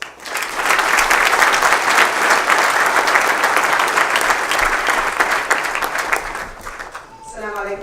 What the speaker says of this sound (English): Please welcome her up with a loud round of applause.